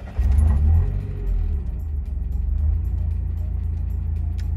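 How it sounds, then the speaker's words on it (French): A Mazda Miata engine cranks and fires up, then settles into a steady, close, loud low idle rumble with a brief rev early on, no one talking. "Je vais vous la démarrer histoire que vous voyez un petit peu comment ça donne"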